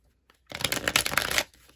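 Tarot cards shuffled close by in a single brisk riffling burst of about one second, quick papery flutters standing alone with no talk around them.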